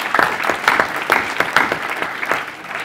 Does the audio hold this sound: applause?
yes